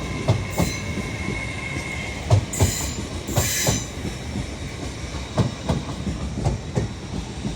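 An LNER Azuma train rolls through Doncaster station, its steady rumble carrying rhythmic wheel clicks over rail joints and brief high squeals, loud and close throughout with no voices.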